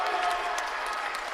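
Crowd noise at a college men's basketball game between OCU and Indiana University Southeast, a broad steady roar of cheering and applause from a lively Saturday audience, loud and continuous throughout.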